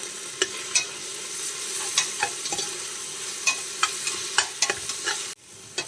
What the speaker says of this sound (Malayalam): 2 ചെറിയ തക്കാളി മുറിച്ചെടുത്തതാണ്, അത് നമുക്ക് ഇട്ട് കൊടുക്കാം.